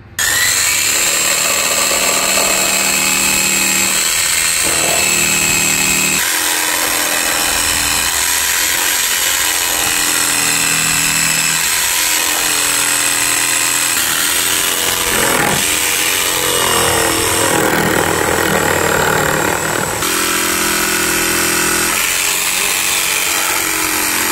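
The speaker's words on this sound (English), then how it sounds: "We're gonna have to notch it in the rigid jigsaw." A corded Ridgid jigsaw fitted with a coarse wood blade cuts a notch in lumber for a front porch repair, a loud continuous rasping drone that shifts in pitch with the load as the cut goes on.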